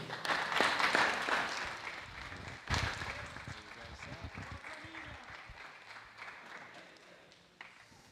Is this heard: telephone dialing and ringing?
no